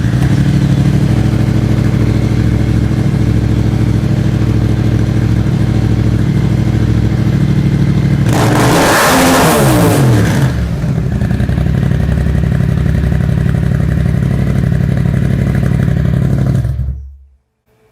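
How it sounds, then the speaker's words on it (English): Yamaha XSR700 motorcycle fitted with a Power Commander V, idling steadily close by, then snapping to wide open throttle for a brief, roaring rev before dropping back to idle and cutting off. "we're going to go over to the bike and we're going to fire it up and go wide open throttle"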